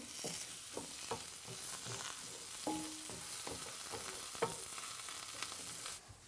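Okra sizzles and fries in a pan for a Burmese duck egg curry, a soft continuous crackle with intermittent clinks and scrapes of stirring, fairly quiet and close, with no voices.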